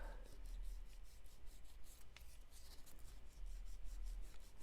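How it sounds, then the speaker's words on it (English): Paint sanded off by hand near a window, steady close rasping strokes that rub back and forth in an even rhythm, quiet and continuous. "the first thing I'm going to do is I'm going to sand the paint off"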